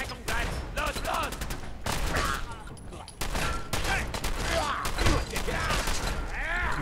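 Combat shotgun blasts in Fallout 4, a rapid run of loud, close shots with short gaps between bursts and mechanical clanks in between.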